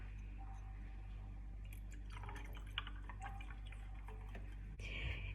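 Soda water pours into a glass of white vermouth for an Italian aperitivo, a soft fizzing trickle with small drips and clinks, quiet and close, ending in a brief louder splash.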